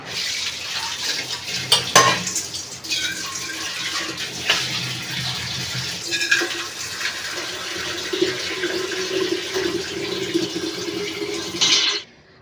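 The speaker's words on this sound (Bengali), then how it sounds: "হাঁড়িতে জল ভরে নিচ্ছি যেহেতু এই হাঁড়িতে দুপুরে ভাত রান্না করব" Tap water runs steadily into a cooking pot meant for rice until it is about half full, with a few metal clanks early on, before the flow cuts off abruptly at the end.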